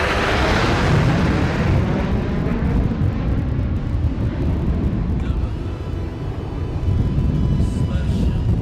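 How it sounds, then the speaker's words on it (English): Jet aircraft of the Suryakiran aerobatic team roar loudly overhead at an Indian Air Force graduation parade, a broad, sustained rumble that swells and slowly eases as the formation passes. "presenting the Suryakiran Aerobatic Team led by Group Captain Prashant Grover"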